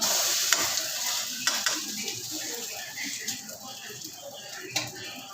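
Thavalai dosa batter sizzles steadily in a hot pan, with occasional sharp scrapes and taps as the dosa is lifted and flipped, while a voice talks over it.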